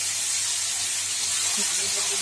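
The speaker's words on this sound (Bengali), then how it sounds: "এইভাবে সরু সরু করে পেঁয়াজ কুচো এই তেলের মধ্যে দিয়ে দিচ্ছি" Thinly sliced onions sizzle in hot oil in a pan, a steady close hiss and spatter that continues throughout.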